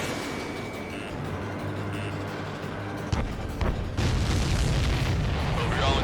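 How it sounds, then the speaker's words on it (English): A supply ship explodes in the Ace Combat 7 flight game: a sudden heavy boom cuts through steady jet engine drone, followed by a sustained loud rumbling roar with a second blast surge about a second later. "Did you see that explosion? Looks like that's one of them down."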